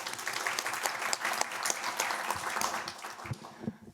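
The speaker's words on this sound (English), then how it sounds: "So a little round of applause." Warm round of applause from attendees at a school board meeting, steady clapping for several seconds before it tapers off near the end.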